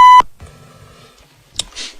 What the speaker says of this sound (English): when there's a beep involved